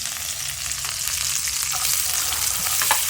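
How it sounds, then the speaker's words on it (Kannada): Onions frying lightly in a pan with green chillies, a dense, steady sizzle close up with soft stirring scrapes throughout. "ಆಮೇಲೆ ಆನಿಯನ್ನು ಲೈಟಾಗಿ ಫ್ರೈ ಮಾಡ್ಕೊಳ್ಳಿ"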